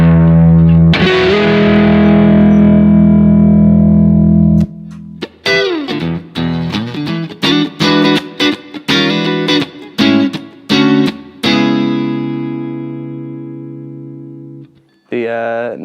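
Electric guitar played through the neck pickup, a P90-sounding single coil on a custom S-type, with a distorted tone: a long sustained chord, then a run of choppy staccato strums and a final ringing chord, loud and close.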